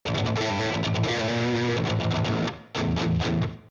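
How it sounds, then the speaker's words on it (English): Loud, sustained distorted electric guitar chords with a short reverb tail from FL Studio's stock reverb on a small studio setting, a brief gap near the end before another strummed chord rings out. "I'm using the stock FL Studio reverb with a small studio setting."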